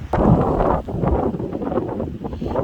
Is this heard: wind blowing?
yes